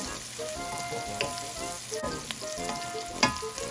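Potatoes fry in a hot pan for chicken, luncheon meat and potato fried rice, giving a steady close sizzle with a few sharp pops and light stirring scrapes, with no talk.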